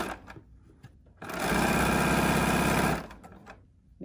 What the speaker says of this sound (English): I am just nicely just steering the material through the machine.